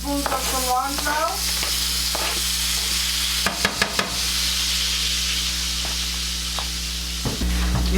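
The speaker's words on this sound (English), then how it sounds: "Give this a little stir" Cilantro is stirred through a sizzling pan for spicy homemade shrimp tacos, giving a steady close frying hiss with scraping utensil strokes and a few sharper clinks in the middle, while the stove sizzle continues throughout.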